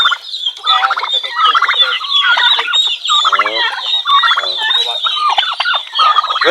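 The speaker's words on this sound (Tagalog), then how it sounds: "Kaya ating mga pabo, mga kabrad. Malaki na." A flock of farm-raised turkeys gobbles loudly and continuously at close range, their rapid warbling calls overlapping with no pauses and no voices.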